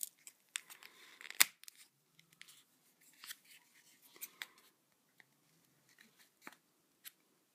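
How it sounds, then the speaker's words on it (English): Quiet, sparse snipping and crisp rustles of scissors cutting, with one sharp louder snip early on and scattered soft clicks after. "Now I know the struggle with scissors"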